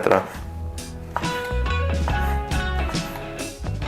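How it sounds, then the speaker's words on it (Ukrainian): A knife slices hunter's sausages about 3 mm thick on a board in quick, steady strokes, close up, with music playing underneath. "Почну з нарізання єгерських ковбасок, наріжу товщиною 3 мм."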